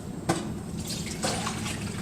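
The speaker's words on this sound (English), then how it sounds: "this is 1/4 cup of just plain white pickling vinegar. We're going to pour that" Plain white pickling vinegar pours into a pan in a home kitchen, a steady close splashing trickle with a couple of brighter splatters, heard on its own for about two seconds.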